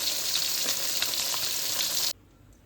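Tilapia fish sizzles loudly in hot frying oil with a steady, dense crackle that stops abruptly near the end, leaving near silence.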